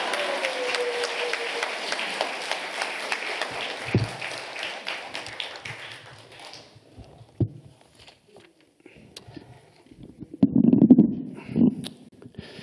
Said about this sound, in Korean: 두 손 들어 할렐루야로 큰 박수로 모시겠습니다